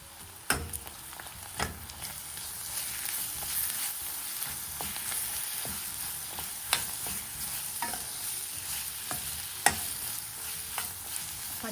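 Masala paste for Telangana Bagara rice fries in a pan with a steady close sizzle, while a spoon stirs and scrapes it in irregular clinks and knocks.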